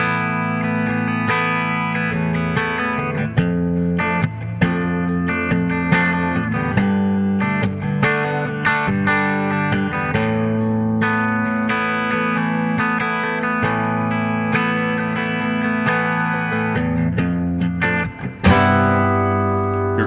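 An Eastman T64 electric guitar plays through a clean tone on its bridge pickup, with bright, sustained chords and notes ringing continuously and evenly at close range without talk.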